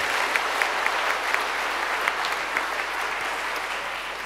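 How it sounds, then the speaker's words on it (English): A conference audience at a Python developers' lightning-talk session applauds steadily for a helper, a dense, even wash of many hands clapping with a few sharper claps standing out throughout. "can I have another round of applause for Noah"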